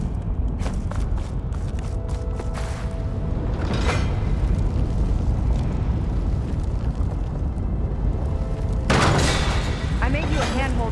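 Ballista bolt launches and booming explosions in Horizon Forbidden West, heavy rumbling blasts over a constant dense game backdrop, with a sharp crack near the end; voices speak between the hits.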